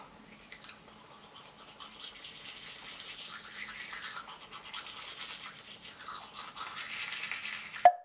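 Teeth brushed with charcoal whitening powder, a soft, steady wet scrubbing that is close and fairly quiet, gradually getting busier and ending on a small knock.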